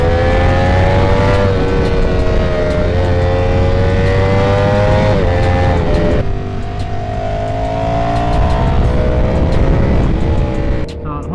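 A Ducati V4S motorcycle climbs toward the mountains, its engine loud and close with a rising whine through the gears, a brief drop around a shift, then pulling hard again under wind noise.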